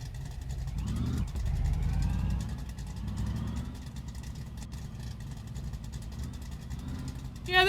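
A pickup truck engine runs steadily at a low idle-like rumble while the truck reverses, with a brief swell in revs early on and a low, continuous drone throughout.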